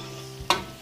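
Onion frying in a pan, a low sizzle with one sharp scraping stir of a utensil midway, close and short, with no talking.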